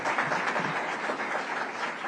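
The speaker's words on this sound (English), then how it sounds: "Let's give him a round of applause as well." Audience applause at a SUNY Buffalo event celebrating artificial intelligence innovation, a dense steady wash of many hands clapping throughout.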